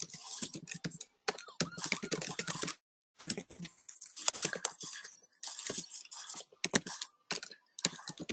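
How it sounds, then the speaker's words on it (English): A computer keyboard is typed on by a remote participant during an online meeting, producing quiet, quick bursts of key clicks broken by short pauses. "I believe Sean is typing the question."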